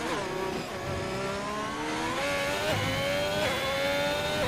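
Race car engine in a sim racing game on the Abu Dhabi circuit, a high, loud rising whine that steps through quick upshifts, continuous and close with no talk.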